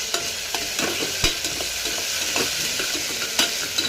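Onions sautéed in a pan sizzle steadily in the background, close by, with occasional light clicks and scrapes of a spoon stirring them, and no voices.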